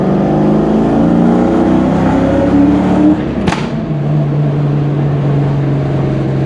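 A Ford Mustang SN95 Cobra's exhaust drones steadily from inside the car on a canyon drive, dips briefly through a gear shift midway, then settles into a steady, lower cruising note, loud and close throughout.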